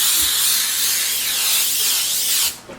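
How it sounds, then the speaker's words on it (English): Pam baking spray hisses onto a rose gold baking sheet in one long, close, continuous aerosol burst that cuts off sharply near the end, leaving quiet room tone. "I'm just going to spray it with this Pam baking spray"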